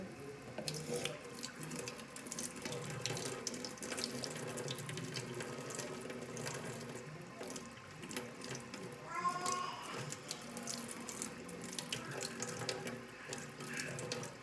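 A kitchen tap runs steadily into a sink for a long stretch, a continuous splashing rush of water at moderate volume with faint clatter underneath.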